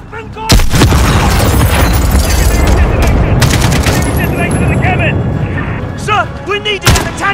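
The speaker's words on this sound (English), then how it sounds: "Secondary detonation in the cabin!" Secondary detonation in Call of Duty: Modern Warfare, heavy booms amid loud, dense gunfire and explosive bursts that keep rolling for several seconds.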